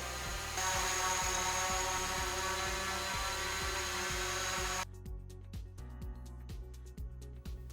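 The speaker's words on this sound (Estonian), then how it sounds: "Vaatame nüüd, kuidas droon mind jälitama hakkab." DJI Mavic Pro drone hovering and flying to follow a person outdoors: a steady, loud, high-pitched propeller whine with a buzzing hum, continuous throughout and nearby, dropping slightly in level partway through.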